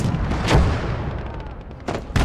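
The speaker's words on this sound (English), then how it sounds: "There's heavy artillery out here somewhere." Heavy artillery fire during a snowy Finnish defensive battle in the video game Blood Red Snow: loud broadband booms with rumbling echo, one near blast early and two more sharp impacts close together at the end.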